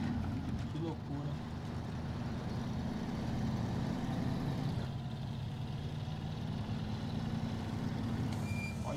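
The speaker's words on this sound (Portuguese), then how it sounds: "tô dizendo que o caminhão resbala" A heavy truck in SnowRunner grinds and slides through mud, its engine droning in a low, steady rumble throughout while someone talks over it.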